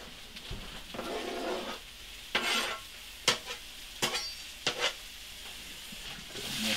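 Bacon is stirred through a frying pan of breakfast mix, with a steady sizzle under several sharp scraping strokes of a utensil.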